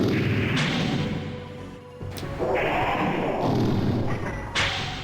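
Missile Shield spell cast in King's Field on PS1: a heavy thud followed by a swelling whooshing magical rush, loud and close, with a sharp accent midway and no talking.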